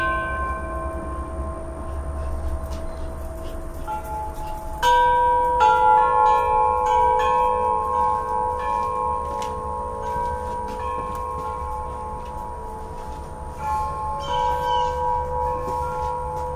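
A large homemade stereo wind chime set rings out in bright, sustained metallic tones, overlapping strikes swelling around five seconds and again near fourteen, set against a steady low background hum with no speech.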